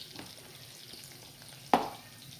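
Onions sautéing in a pan for a red amaranth (cheera) stir-fry, a soft steady sizzle with a few stirring scrapes and one sharper clatter near the end.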